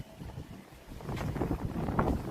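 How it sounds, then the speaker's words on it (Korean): Outdoor wind gusting steadily at a spring fishing spot, a low rumbling buffet that builds and stays strong through the second half, with no talking. "바람 불어서 모자가 세이프로 넘어가 버려요."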